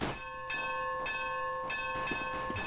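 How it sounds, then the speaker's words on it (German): A church bell on the Counter-Strike map de_inferno is hit by gunfire, giving repeated metallic clangs with long ringing tones that overlap and sustain, struck again in a quick burst near the end. "wie lange da die Glocke angeschossen wird, ist ja krass"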